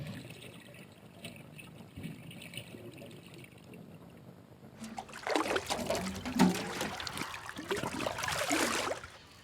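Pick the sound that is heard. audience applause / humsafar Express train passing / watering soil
watering soil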